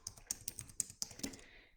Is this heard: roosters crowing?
no